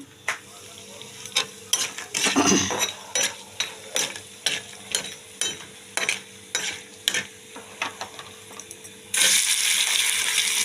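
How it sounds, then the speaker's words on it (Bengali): Potatoes go into a pot of Bengali drumstick and bori curry, followed by a run of sharp scraping and stirring strokes in an irregular rhythm, with a steady sizzle underneath and a louder burst of frying near the end. "দেখুন দিয়ে দিচ্ছি আলু"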